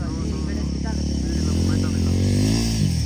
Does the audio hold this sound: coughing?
no